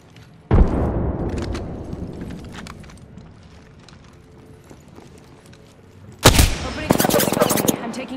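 Gunfire in a battle-royale shooter game featuring a Spitfire weapon: two loud bursts of shots, one near the start and another near the end, with a quieter rumbling stretch between them.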